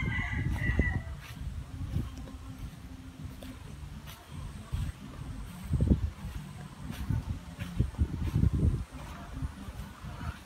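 Fowl call outdoors on a turkey farm at Khao Yai in the morning, where a rooster crows and birds cluck and gobble at a moderate distance, with intermittent low rumbles and no speech.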